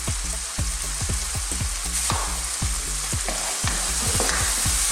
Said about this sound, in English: Give it a stir in there.